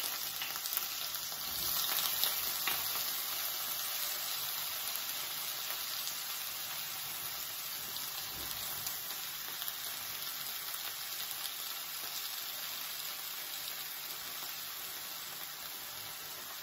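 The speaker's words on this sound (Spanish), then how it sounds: "Creo que ya está el aceite caliente. Voy a poner la berenjena ahí para que se vaya dorando." Eggplant frying in hot oil, a steady, dense sizzle and crackle that holds evenly throughout at close range, with no talking.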